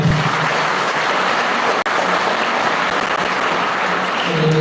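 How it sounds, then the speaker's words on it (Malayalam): Sustained applause from a congregation inside a church during a Malayalam Sunday Holy Mass at Terra Santa Church in Jerusalem, a dense, even clatter of many hands, loud and steady throughout with one brief break. "നല്ലൊരു കയ്യടി രണ്ടുപേരും കൊടുക്കാം."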